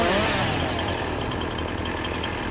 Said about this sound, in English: Sorry about all the chainsaw work on this video.